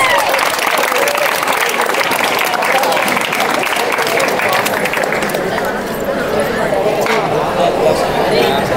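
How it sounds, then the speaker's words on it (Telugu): A school crowd applauding at a teacher's retirement celebration, loud dense clapping sustained throughout with voices and chatter mixed in. "So huge round of applause."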